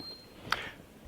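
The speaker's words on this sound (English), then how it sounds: "so that alarm is right now is telling me that obviously the door is open" A Liebherr WTes 5872 freestanding triple-zone wine cellar sounds a single short electronic door-open alarm beep, clear and fairly close against a quiet room.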